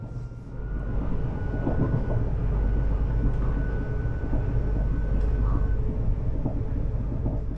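A high-speed electric intercity train in the Netherlands runs at about 200 km/h with a steady, heavy rumble and rushing noise, heard from inside, with faint rhythmic rattling and a thin electric whine.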